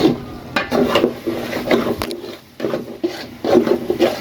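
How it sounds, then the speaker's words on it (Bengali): Goat liver frying in oil and spices in a pan, heard as close, repeated scraping and rubbing strokes of a spoon stirring against the pan with a soft background hiss. "এখন মশলার মধ্যে কলিজা ভাজতেছি"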